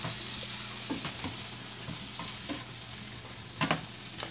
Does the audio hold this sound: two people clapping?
no